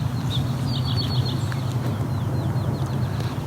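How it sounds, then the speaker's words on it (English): Eastern towhee calling outdoors in a field with other birds, a series of short clear chirping notes repeated over steady low background hum, moderately distant. "That's our eastern towhee."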